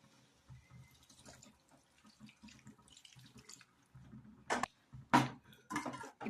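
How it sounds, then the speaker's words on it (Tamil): Water is added to a potato and cauliflower curry, heard as faint soft trickles and then a few brief, louder splashing bursts near the end. "அப்படியும் தேவையான அளவு தண்ணி சேர்த்துடலாம்."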